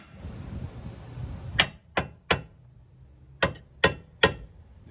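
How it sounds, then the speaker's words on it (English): Six sharp metallic hammer blows strike a car's CV axle in a garage, coming in two quick groups of three over a faint low background rumble. "can we hit it with a hammer?"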